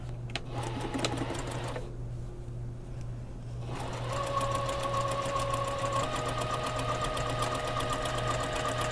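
Sewing machine stitching an elastic casing along the inner serged seam of a puffy dress sleeve, a fast steady mechanical rattle that pauses briefly, then resumes at an even pace, close and moderately quiet.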